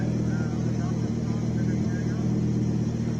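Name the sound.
Audi Quattro 5-cylinder turbo race car engine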